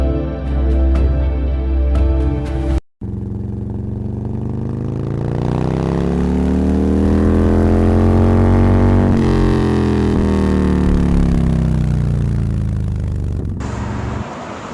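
A car engine drives fast along an empty road, a steady close drone that swells and rises in pitch, then eases back, following a brief cut near the start, with no one talking.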